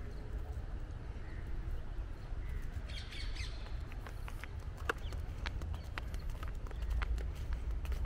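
A bird gives sharp squawks over a constant low rumble of an outdoor city walk at sunset, with clicking footsteps throughout and no talk.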